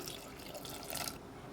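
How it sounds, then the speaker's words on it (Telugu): Water pours briefly over cut potato pieces in a container, a quiet splashing stream lasting just over a second. "ఇలా కట్ చేసుకుని ముక్కలు మునిగేంత వరకు వాటర్ పోసుకుని"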